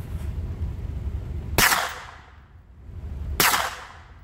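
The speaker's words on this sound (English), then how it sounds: "you can kind of see what the Glock 26 is going to sound like running suppressed" Two sharp, loud reports from a Glock 26 fitted with a Silencerco Omega 9K suppressor firing 115 grain rounds, spaced about two seconds apart, each with a fast crack and a short decaying tail.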